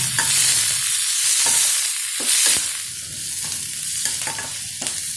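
Onions with a little salt and turmeric sizzle and crackle in a hot pan while a spoon stirs and scrapes intermittently, close up, with no talking.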